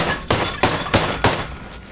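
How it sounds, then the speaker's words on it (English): A muddler bangs down on ice in a cocktail glass, four evenly spaced sharp hard knocks, loud and close with a brief ringing decay after each strike. "Don't you have your big old muddler? And you hammer the crap out of it."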